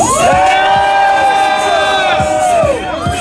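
A large crowd at a home football game against St. Louis roars and cheers loudly, with many voices shouting and whooping together in a sustained, rising wave of noise.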